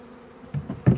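Saskatraz honey bees buzzing around a hive during a package install, a faint low drone that swells into a couple of louder passes close to the microphone near the end.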